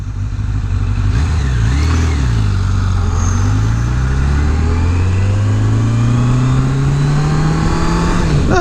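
A car engine accelerating from a start in second gear, a loud close drone that rises steadily in pitch across the stretch, with no talking.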